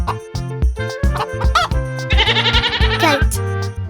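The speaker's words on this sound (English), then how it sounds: "Goat." A goat bleats loudly in a farm-animal sound sequence for children, with several wavering, quavering calls in quick succession over background music.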